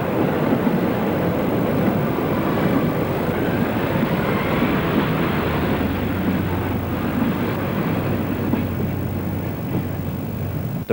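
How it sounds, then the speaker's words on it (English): A regional railways train approaches Grosmont from Whitby on a curved line next to the North Yorkshire Moors Railway station, a steady low rumble of the train drawing near that holds even and loud throughout with no speech. "a regional railways train is seen approaching Gromont from Whitby"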